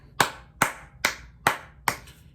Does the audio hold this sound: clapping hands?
yes